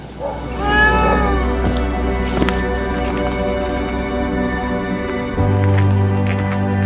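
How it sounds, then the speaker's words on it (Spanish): A brown cat meows repeatedly in a wooded ravine, its drawn-out, wavering calls standing clearly over a low steady hum and light outdoor background noise. "nuestra cita obligada con nuestro amigo el encontradizo gato pardo"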